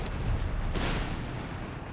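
Artillery barrage in the real-time strategy game Company of Heroes 3, a dense rumbling wash of distant booms with a sharper burst partway through, continuous and fairly quiet.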